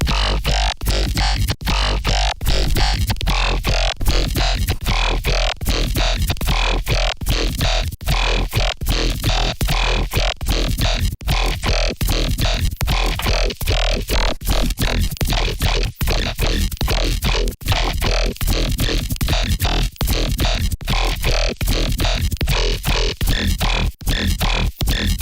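A heavy dubstep synth patch on an Arturia MicroFreak plays a higher note, loud and relentless, in dense rhythmic pulses of gritty, wobbling tone with sharp gaps between hits.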